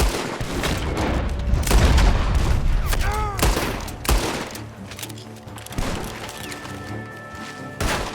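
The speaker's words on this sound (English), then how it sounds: "The gunshots are coming from that barn!" Rapid bursts of gunfire crackle through a loud, chaotic Red Dead Redemption 2 game scene, with booms and crashes layered over continuous background noise.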